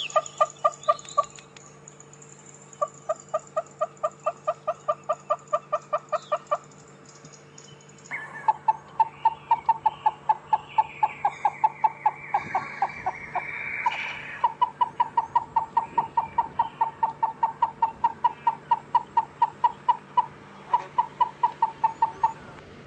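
A Southern Yellow-billed Hornbill gives a recorded call of repeated hollow tocking notes, starting slowly then speeding up into rapid series, clear and fairly loud over a steady low hum, with no talking.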